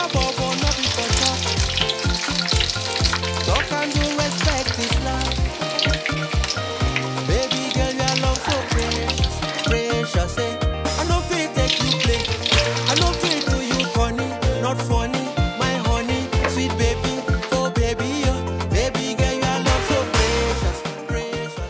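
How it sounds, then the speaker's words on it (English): Tuna croquettes fry in a pan with a steady, loud sizzle and crackle that runs without a break, layered over continuous tonal background sound. "So we'll turn this. Ooh. So we're cooking it 2 minutes on each side."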